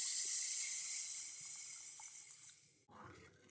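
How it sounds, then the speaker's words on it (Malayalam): Water pours steadily into a pan for fish curry, a close hissing splash that tapers off over a few seconds before a short clatter of the pan. "വെള്ളം ഒഴിച്ച് കൊടുക്കാം."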